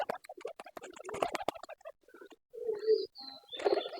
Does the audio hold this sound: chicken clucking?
no